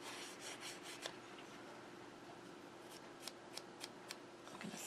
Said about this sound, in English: I'm going to sand this edge a little bit.